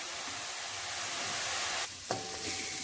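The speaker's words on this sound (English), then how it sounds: "this will help the onions to saute. Let's keep it on medium flame and occasionally stir it" Onions sauteing in a pan over a medium flame for tuna cutlets give a steady, close sizzling hiss that briefly dips and shifts partway through, as if stirred, with no talking.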